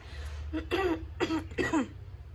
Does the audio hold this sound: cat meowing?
no